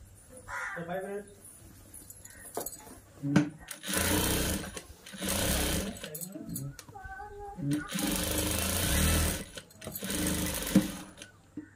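Sewing machine stitching the side seam of a long child's frock made from an old saree, running in several loud sustained bursts with pauses between, while a person talks at times.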